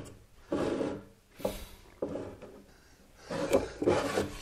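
A hand-fitted wooden drawer in a traditionally built joiner's tool cabinet slides in and out several times, each stroke a rubbing, grinding wooden scrape separated by short pauses, close and fairly quiet.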